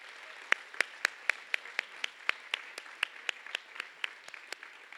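A small audience at a formal awards program claps for award winners, a sparse, fairly faint run of distinct individual claps in a steady rhythm, gradually thinning.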